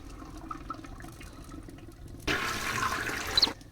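A toilet flushes in the Deponia video game: a sudden loud rush of water starts after a quiet stretch and keeps pouring for about a second before cutting off abruptly.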